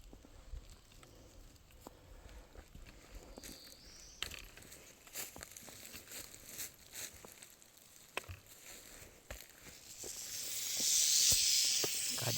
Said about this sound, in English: God, you hear that rattle?